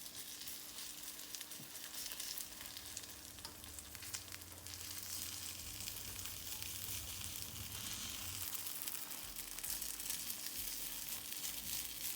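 Steady crackling sizzle of zucchini cake patties frying in a hot pan, continuous and close, with a faint low hum underneath.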